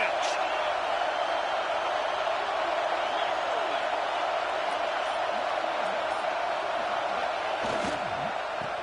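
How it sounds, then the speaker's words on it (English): A football stadium crowd roars continuously on a third-down play in the red zone, a dense, sustained wall of cheering that never lets up, with scattered whoops and a commentator's voice running over it. "this crowd is at fever pitch"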